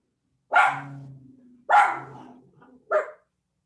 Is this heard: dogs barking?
yes